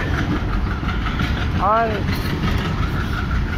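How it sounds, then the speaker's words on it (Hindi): An Indian Railways WDM3D diesel locomotive hauling train 11328 rumbles steadily past in the dark night, a constant loud engine drone with a brief rising horn-like tone midway, while someone speaks briefly over it. "This is a very magical rail movement guys. इतनी बेहतरीन चुगिंग इस हार्डकोर डार्क नाइट में"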